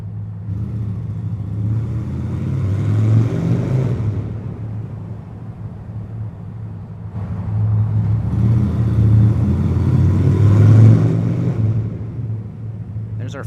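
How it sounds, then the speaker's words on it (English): A Honda Shadow 750 Aero motorcycle engine rumbles loud and close, a steady low drone that swells twice as the bike pulls along. "Honda Shadow coming through."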